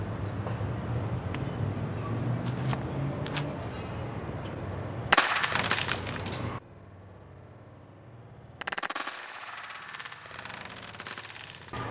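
A toy blaster launches a single foam ball from a short grenade shell: a sharp, loud pop-crack near the middle, a muffled gap, then another burst of noisy clatter, with handling sounds before.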